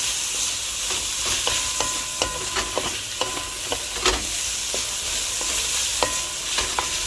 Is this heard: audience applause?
no